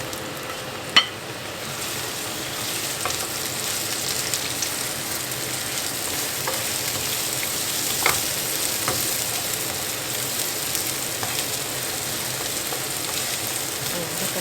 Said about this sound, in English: we need to saute the garlic. And onions.